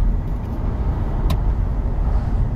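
A Mercedes R230 SL 350 with its V6 engine drives along with the roof down, giving a steady low engine drone mixed with wind and road rumble, plus one brief click.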